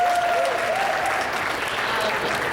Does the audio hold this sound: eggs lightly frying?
no